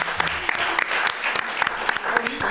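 During a French podcast recording, the audience applauds the groom-to-be, a lively burst of close, crisp clapping mixed with light crowd voices and scattered louder hand claps.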